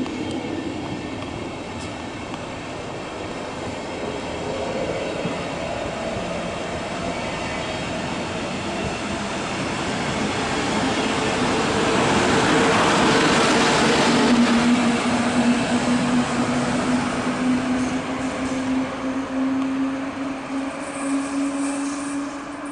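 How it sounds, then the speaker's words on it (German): Regional train with a Karlsruher Steuerwagen control car departing a station platform, a long steady rumble of rolling wagons that swells midway, with rising motor whine and faint wheel squeal, heard from close by without talk. "Vorsicht an den Türen und bei der Abfahrt des Zuges."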